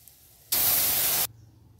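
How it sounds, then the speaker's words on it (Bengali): Dal poured into hot mustard-seed and panch phoron tempering gives one sudden, loud, broadband sizzle that lasts under a second and then cuts off sharply, with no talk over it. "এখন ডালটা ঢেলে দেব।"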